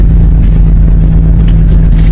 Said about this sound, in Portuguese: Ali embaixo tá chegando uma balsa agora. Os carros vão sair.